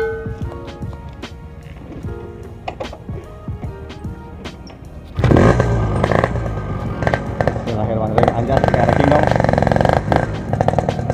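A motorcycle is test ridden: quieter handling noises and people talking, then the engine bursts into a loud, sustained roar about halfway through and keeps running close up under the voices.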